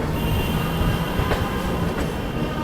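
A Lucknow Tejas express train running on the Lucknow–New Delhi route arrives, heard as a loud, close continuous rumble of rolling railcars with faint wheel squeal, no talk.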